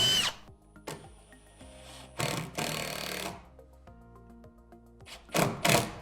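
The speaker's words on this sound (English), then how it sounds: "you just want to drill it." A power drill driving a screw into wood while installing an exterior door whirs in several short bursts with a final longer run, separated by quieter pauses with faint knocks and handling noise.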